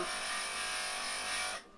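A grinding wheel smoothing the edge of cut glass, a loud close steady whirring grind that stops abruptly near the end.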